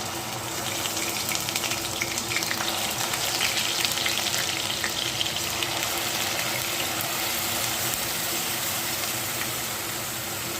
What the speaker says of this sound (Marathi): आता यात आपण जो वाटून घेतलेला मसाला होता तो परतून घेऊया